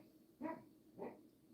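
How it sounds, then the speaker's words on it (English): A sleeping dog whimpers while dreaming, two soft muffled whines about half a second apart in a quiet indoor room, faint and close. "Oh, Luna's in there. She's puppy dreaming."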